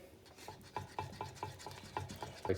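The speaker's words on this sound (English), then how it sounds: "we'll just stir that in" Spoon stirring nutmeg into a thick beef sauce for Greek moussaka, a steady rhythm of soft scraping strokes against the pan, close and moderately loud, with no talking.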